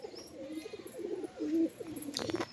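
A pair of pet pigeons gives soft, low cooing close by, a few rolling murmurs over quiet background hiss.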